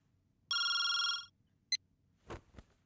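A telephone bell rings once in a burst in a Telugu movie scene, then a short second chirp, followed by a couple of dull thuds against a quiet background.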